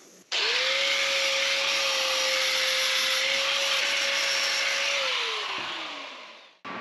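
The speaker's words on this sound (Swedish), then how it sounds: "Vi tar bara och slipar av svetslopporna lite snabbt." A loud, steady grinding roar of a grinder taking weld spatter off a welded steel lifting hook, running continuously for several seconds before winding down, with no talking.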